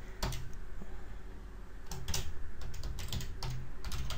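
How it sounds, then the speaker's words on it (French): Someone types an email address on a computer keyboard, producing close, irregular bursts of key clicks with brief pauses between them. "Donc je vais taper mon adresse."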